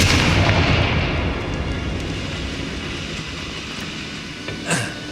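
A Confringo blasting spell in Hogwarts Legacy detonates with a heavy, close explosion, then a long rumbling roar that lingers and slowly subsides, ending with a brief sharp burst.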